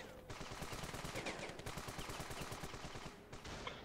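Rapid automatic gunfire in the video game Ravenfield, a dense continuous burst of shots lasting several seconds, fairly faint, with a brief gap near the end.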